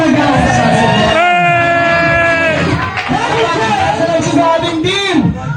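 A loud crowd at a first birthday party shouts, whoops and cheers together, with voices overlapping continuously and a host speaking over the noise.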